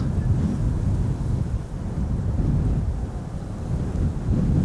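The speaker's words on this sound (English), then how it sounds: "The wind is actually picking up a little bit." Wind blowing at Amsterdam Schiphol Airport, a loud continuous low rumbling roar buffeting the microphone in slow surges, with no talk.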